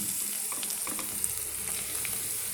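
Onion and ginger frying in a pan for coconut chutney powder, a steady close sizzle with light stirring scrapes, no voices.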